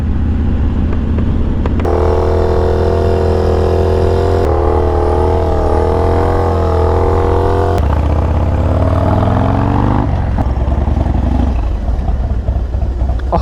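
A Harley-Davidson FXDX motorcycle is ridden, its loud V-twin engine rumbling close up while it accelerates through several gear changes, pitch climbing and dropping with each shift.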